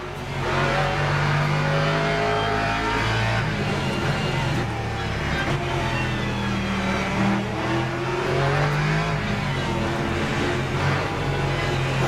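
Race cars including a McLaren in Le Mans Ultimate, engines roaring loud and close with rising and falling revs as cars pass, a continuous howl over twelve seconds with some voice underneath.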